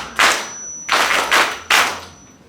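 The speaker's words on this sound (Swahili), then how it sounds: "Watoto pigeni makofi ile." Children clap in a group, producing three distinct bursts of applause spaced nearly evenly over a couple of seconds, each fading quickly, close and fairly loud.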